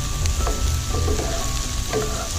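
Hamburg steak mixture stir-fried in a pan, a loud, continuous close sizzle with light scraping strokes and no talk.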